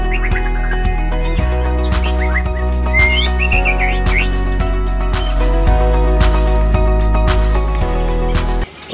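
A white-rumped shama (murai batu) with damaged plumage sings in an aviary: loud, clear whistled phrases and quick chirps repeat throughout over a steady low hum.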